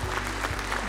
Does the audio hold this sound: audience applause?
yes